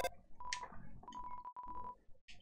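Phone call ringing in the game Undertale, an electronic tone beeping in short steady pulses with brief chirps before and after, clear and alone without voices.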